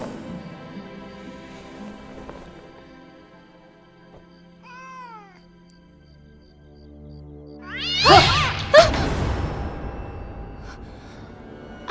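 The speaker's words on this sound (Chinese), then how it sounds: "这怎么会有一只咬人的野猫啊？" A biting wild cat found wrapped in swaddling cloth inside a guest room lets out a short meow midway, followed by louder, rising yowls near the end over a soft tonal backdrop.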